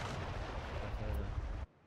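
Long-range warship cannon fire in Anno 1800, a loud booming blast with rumbling sustained roar that cuts off abruptly into near silence, with a voice talking faintly underneath.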